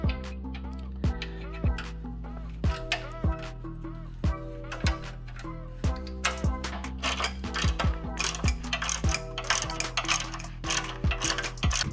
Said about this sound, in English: Bolt the top bracket on here.